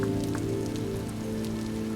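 Steady rain falls in the survival crafting game Vintage Story, a constant even patter on surfaces with no voices.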